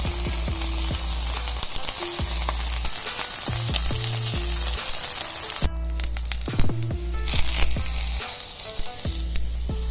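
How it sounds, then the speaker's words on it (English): Peas fry in oil in a pan for a Korean vegetarian bibimbap, a steady close sizzle and crackle running throughout with occasional stirring scrapes and brief dips in the hiss. "you can add the peas and then some oil and fry for a couple of minutes"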